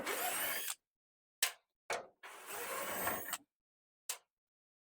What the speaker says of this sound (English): I'm gonna take the tech screws out from the inside